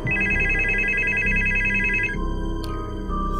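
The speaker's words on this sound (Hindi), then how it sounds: "काफ़ी देर तक बेल जाती रही, लेकिन कोई जवाब नहीं आया।" A telephone rings on an outgoing call that goes unanswered, a loud repeated electronic ringback tone pulsing steadily for about two seconds before cutting off, followed by a brief beep.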